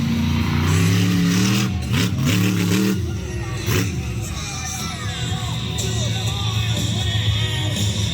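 A monster truck engine revving hard at an outdoor monster truck show in Nowra, New South Wales, loud throaty roars rising and falling over a crowd, with an announcer talking over it.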